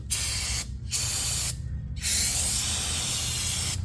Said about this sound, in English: use a brake cleaner, because these are oils